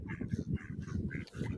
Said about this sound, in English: those are mallards right there coming out. Male and female mallards